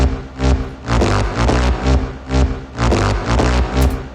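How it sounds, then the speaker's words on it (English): A deep bass melody loop from a sampler pulses in a repeating, throbbing phrase, the song's main melody, with rhythmic swells and light percussion, loud and close. "This bass is actually like the main melody of the song"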